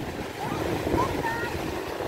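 Steady sea waves wash onto a beach in Chanthaburi, a soft continuous surf hiss mixed with wind buffeting the microphone, faint and unbroken throughout.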